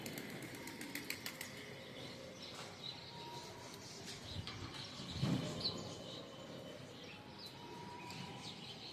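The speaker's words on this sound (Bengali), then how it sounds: "আর কবুতরের আস্তে আস্তে এসে জমা হচ্ছে।" Pigeons gathering at a home, with soft wing flaps and fluttering amid faint background ambience, one fuller burst of flapping midway through.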